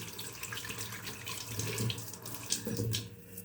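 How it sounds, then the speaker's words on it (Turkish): Running tap water splashing into a sink while a face is washed with hot water, a steady close rush with brief louder splashes, no talking. "yüzümü yıkadım"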